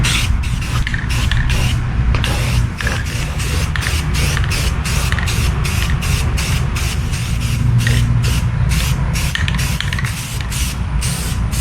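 Steady hiss of spray paint being applied to old cast-iron castings from an antique Dunlap/Craftsman/King-Seeley 103 drill press, loud and continuous with brief rhythmic breaks between passes, no talking.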